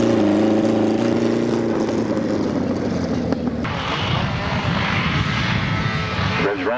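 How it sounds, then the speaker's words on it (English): Grasstrack racing sidecar engines at the start of a 1995 race roar loudly together, revs climbing and then surging away as the machines launch, close and harsh throughout. "Revs rise, the tapes fly"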